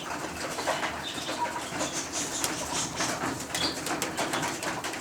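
Arabian tumbler pigeons flutter and coo nearby on a rooftop, bursts of wing flapping over soft cooing and a steady outdoor background.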